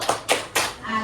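Classroom group doing the rhythmic 'tepuk sukses' clap: three sharp, loud claps in quick even succession, with a voice starting near the end.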